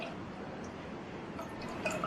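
Water trickles and splashes into a cooking pot, a soft continuous liquid pour with faint drips, quiet and close.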